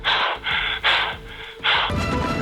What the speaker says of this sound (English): the actor gets so worked up, he's left gasping for air